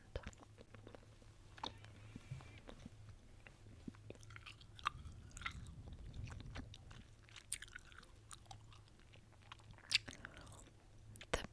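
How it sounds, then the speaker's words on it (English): Airwaves chewing gum is chewed close to the mouth, with steady soft wet smacks and small crunchy clicks repeating throughout, quiet and intimate in a hushed setting with no talk. "The brand of gum that I'm chewing right now is Airwaves."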